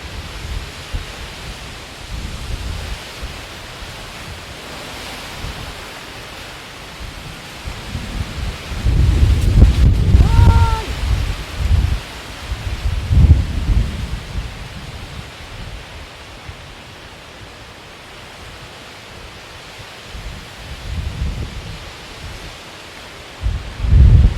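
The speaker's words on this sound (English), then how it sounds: "Mostly wind." Hurricane Ian wind in Southwest Florida, blustery rushing gusts swelling and fading with heavy low rumbling buffets, loudest in a burst midway, no speech.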